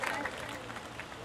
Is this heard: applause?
yes